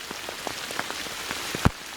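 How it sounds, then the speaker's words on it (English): Rain falls under a garden tree canopy onto a thick layer of fallen bamboo leaves, making a soft, steady patter with scattered louder drops close by, and no voices. "2 3/4 inches of rain has fallen on this"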